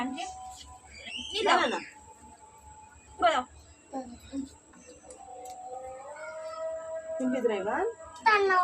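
A cat gives a few drawn-out meows at intervals, close by, with people talking in between and around the calls.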